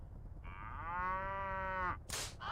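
A single drawn-out cow moo from the video game Mass Effect, rising and holding steady for about a second and a half before breaking off, followed by a short burst of noise, over a low background rumble.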